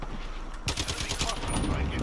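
Rapid automatic gunfire from a player's weapon in a Modern Warfare game, a loud close burst of quick repeated shots starting sharply and continuing to the end.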